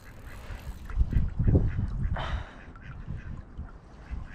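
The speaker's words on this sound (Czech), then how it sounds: "Tady mě atakují kačeny furt." Ducks quack in short, uneven bursts beside a pond where someone is fishing for carp and tench from a jetty; the calls are fairly close and moderately loud over low rustling.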